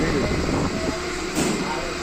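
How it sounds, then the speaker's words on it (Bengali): A Howrah to Amta local train rumbles and clatters close by as it departs the station, a heavy, steady mechanical drone with faint talk in the background. "তো এই 3টে 46-এর সময় ট্রেনটা এখন ছাড়লো"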